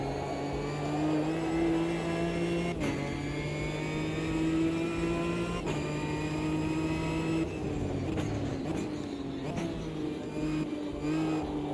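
Race car engine in the Automobilista 2 sim racing game, a light GT car revving steadily with sustained whining tones that drop and climb sharply at each gearshift, loud and continuous with no talk.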